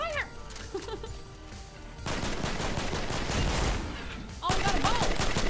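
Gunfire rings out in the Fortnite Battle Royale video game, with dense rapid bursts of shots and a busy, loud stretch of firing, while players talk excitedly over it.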